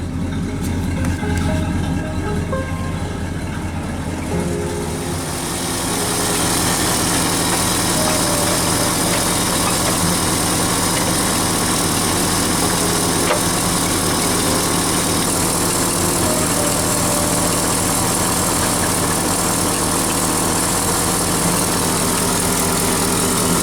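A 1969 Ford Ranger truck engine idles steadily while warming up, a continuous close rumble with even vibration that holds unchanged for over twenty seconds.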